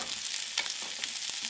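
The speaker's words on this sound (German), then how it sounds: "die Zwiebeln auf Vollgas anbraten, 10 Minuten lang" Onions sizzle in butter in a pan over a burner on full heat, a dense, even crackle with a few sharper pops, close up and without any talking.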